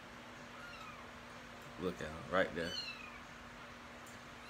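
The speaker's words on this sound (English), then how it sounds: "And they meow a lot." Baby kittens let out a few faint, high meows in quick succession mid-clip against steady background hum, with a person talking nearby.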